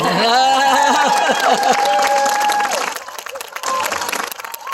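Graduation crowd at the Charter School of Wilmington Class of 2022 commencement cheering and clapping, with loud whoops and shouted voices early on that give way to scattered steady applause.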